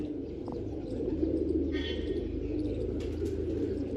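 Pigeons, among them a young red bird out on a flight, coo and chirp softly now and then over a steady outdoor background, fairly close and low in level.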